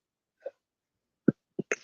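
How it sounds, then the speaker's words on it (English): A person burps softly after drinking wine, giving a few short, quiet belches spaced out in quick succession, close and isolated with no talking. "this wine got me burping"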